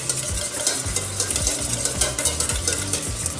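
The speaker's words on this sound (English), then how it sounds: "just get that whisked up here nice." Lemon juice and white wine vinegar are whisked in a bowl, a quick, steady run of close metallic strokes and light clinks that keeps a regular rhythm for a few seconds.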